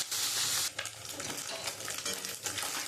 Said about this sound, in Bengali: এবার কড়াই তেলটা গরম হয়ে গেছে, এবার আমি দিয়ে দেবো। আমি মাছটা একটু হালকা ভেজে নেব।